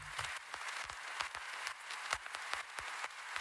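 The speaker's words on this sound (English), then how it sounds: "the last thing that we have here is the noise, which sounds like this" A noise layer for an industrial ambient techno track: dry, crackling broadband bursts and clicks scattered irregularly at a low, steady level, with no other sound.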